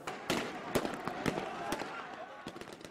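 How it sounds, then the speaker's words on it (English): Sharp, irregular bangs of heavy gunfire ring out in a rapid scattered series across a square in Egypt, echoing at a distance with a faint murmur of crowd noise beneath. "We heard heavy gunfire on the other side of the square."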